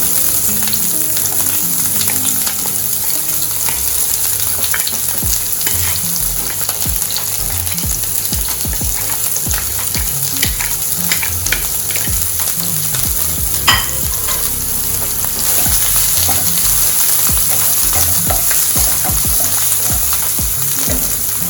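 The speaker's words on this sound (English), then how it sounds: "Cornmeal smells so good now. Cornmeal cooking." Cornmeal-coated mackerel fries steadily in a small amount of cooking oil, giving a loud, continuous sizzle and crackle throughout with no talking.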